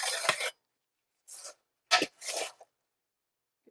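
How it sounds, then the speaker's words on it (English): Freeze-dried black-eyed peas pour through a canning funnel into a jar in a few short, dry rattling rushes separated by silence, close and fairly quiet, with no talking. "Let's put the canning funnel back on and start again. Just loading it up with the black-eyed peas."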